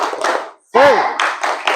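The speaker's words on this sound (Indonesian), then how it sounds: "Tepuk semangat." Children in an Indonesian classroom doing a rhythmic spirit clap: short bursts of group clapping in a patterned beat, broken by a brief pause and a single high vocal call, with voices mixed in.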